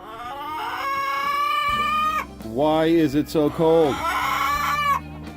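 Chickens huddled in a snowy coop cluck and croon in drawn-out, wavering calls, close and fairly loud, while a person speaks briefly over them.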